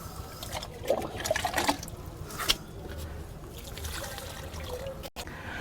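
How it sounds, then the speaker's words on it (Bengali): Water trickles and dribbles onto the soil of a potted lemon plant, a soft, close, uneven splashing with a few brighter drips, faint and steady throughout. "এখানে দেব আমি পর্যাপ্ত পরিমাণে জল"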